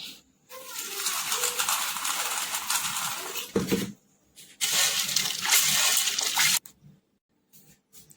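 Kidney beans are rinsed in water, with loud, close swishing and sloshing in two long stretches separated by brief pauses and a few clinks.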